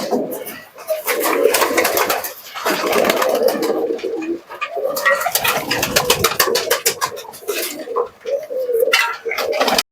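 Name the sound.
Rampuri pigeons cooing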